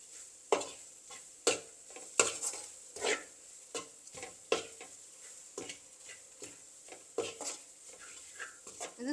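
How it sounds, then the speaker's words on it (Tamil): Dried baby prawn sambol stirred in a pan, a quick run of irregular scraping clicks and light knocks of the spoon against the metal, close up, with a faint sizzle underneath and no voices. "இது கொஞ்சம் கிட்ட நின்று கிண்டி கொண்டு நிற்கணும், அடி பிடிக்கக்கூடாது."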